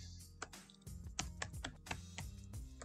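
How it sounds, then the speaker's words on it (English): Keystrokes on a computer keyboard come in an uneven run of quick clicks, closely miked but quiet, with no voice. "I'm going to go ahead and just type in a couple of these that I've stayed in"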